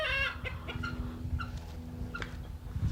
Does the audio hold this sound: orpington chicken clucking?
yes